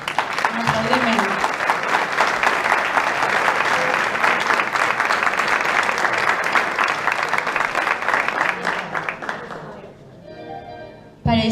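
An audience at a prize ceremony for a short-story contest in Sueca breaks into sustained, lively clapping that fades out near the end, followed by a brief pause before sound resumes.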